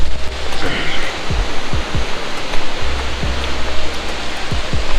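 Loud, steady rush of river water below Tiru waterfall, a dense continuous roar with low thumps and splashes, heard close with no talk.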